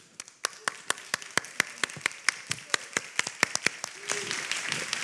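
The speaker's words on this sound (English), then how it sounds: "And I think Esper demands a round of applause for everything that he's done" Scattered audience applause at a scientific meeting on HIV and aging in Brazil, starting as distinct separate claps and thickening into fuller clapping toward the end, fairly close and moderately loud.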